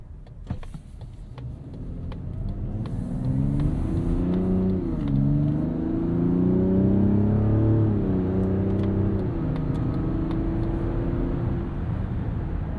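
A 2025 Mazda CX-70 Turbo S SUV's 3.3-liter turbo inline-six revs up steadily, its pitch climbing, dipping and climbing again in a rising growl, close and loud with no talking.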